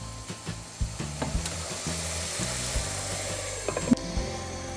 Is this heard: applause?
no